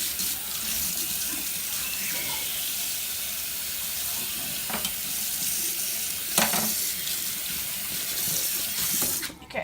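Tap water runs steadily into a sink while flathead fish are rinsed, a continuous splashing hiss with a few brief louder splashes near the end and no talking.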